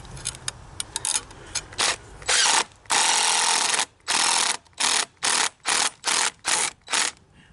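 A power drill drives screws through a wisteria trellis board into a post in a run of short bursts, quick whirring pulses, then longer whines and a regular series of evenly spaced buzzes, loud and close.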